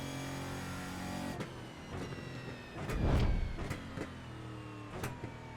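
A Chevrolet Cruze race car in iRacing hums with a steady engine drone, broken by several sharp clicks of gear shifts and a louder rumbling swell midway, all heard from inside the cockpit.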